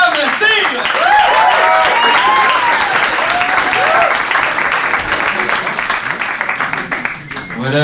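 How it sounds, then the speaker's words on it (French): An audience at a stand-up comedy show breaks into loud, sustained applause and cheering, dense clapping that fills the room before gradually thinning out, with some voices mixed in. "On commence à l'applaudir."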